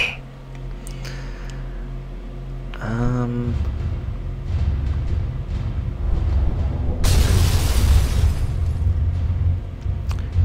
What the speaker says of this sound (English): Explosions! Yeah!